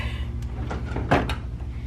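A classroom desk drawer being pulled open, a few light sliding knocks ending in a louder thump, close up over a steady low room hum.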